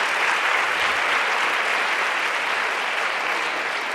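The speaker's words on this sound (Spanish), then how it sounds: "Carmelo Vizcarra, fortísimo aplauso." A large conference audience applauds steadily and loudly after a talk, continuous clapping holding at an even level throughout.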